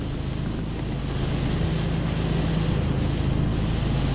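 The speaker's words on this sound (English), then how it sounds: "I'm about to come spray you and knock you off the scaffold." Continuous hissing spray of a pressure washer in a video game, loud and close, running steadily without a break.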